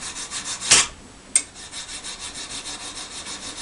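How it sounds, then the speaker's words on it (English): A hand file rubs a brass connector clean before sweat soldering it to copper, a steady rhythmic rasping of even back-and-forth strokes, close and fairly loud, with a couple of sharper knocks early on. "And just get a cleaner with a file, and it's nice and sparkling."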